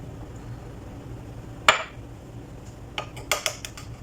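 A metal utensil strikes a bowl while chicken marinade of garlic powder, pepper, coloring powder and lemon juice is mixed, giving one sharp clink followed by a quick cluster of lighter taps.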